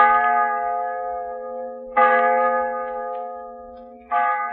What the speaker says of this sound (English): while the church bell is ringing